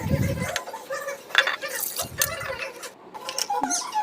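An iron kadai being scrubbed and rinsed under running water, with close, irregular clinks, scrapes and squeaks of metal and a steady wash of water throughout.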